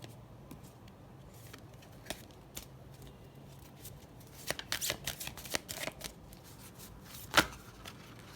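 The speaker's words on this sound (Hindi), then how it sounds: "फिर से शफल करेंगे।" Tarot cards being shuffled by hand: a quiet stretch of faint rustling, then a burst of crisp riffling flicks and slaps, ending in one sharper snap, close up with no talk.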